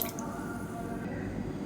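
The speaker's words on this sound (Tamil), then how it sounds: "இப்போ இன்னொரு சொம்பு தண்ணி ஊற்றிக்கலாம்." Water poured from a jug into a pressure cooker, a steady close splashing and gurgling stream that runs without pause for under two seconds.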